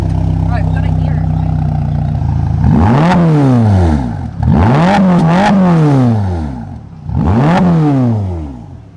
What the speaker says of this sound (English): Still sounds like a Ferrari.